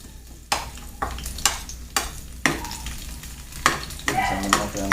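Garlic frying in a hot pan, a steady sizzle broken by a series of sharp scraping stirs roughly every half second to second, close and clear with no talk.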